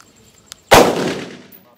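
A single sharp rifle gunshot cracks loudly and close, then a broad echoing tail fades out over about a second in open air.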